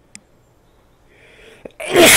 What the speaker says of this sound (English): Shit, I need to sneeze